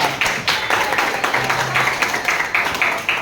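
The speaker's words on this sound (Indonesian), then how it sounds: "Sekali lagi tepuk tangan yang meriah" An audience at a teacher-training session in Indonesia claps together, a steady dense patter of many hands that stays loud throughout with a murmur of voices underneath.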